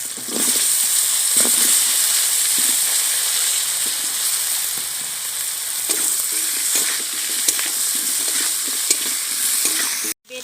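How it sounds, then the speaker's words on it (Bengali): Chopped raw banana and potato sizzling steadily in a hot pan, with a constant bright hiss and the occasional scrape of stirring, close and loud throughout. "এবার আমি কলা আর আলু কেটে রাখা দিয়ে দিচ্ছি।"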